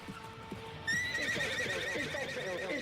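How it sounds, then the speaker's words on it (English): Several horses whinny loudly over a steady clatter of hooves clip-clopping, with the neighing rising sharply partway through and continuing to the end. "Why do we hear a bunch of horses?"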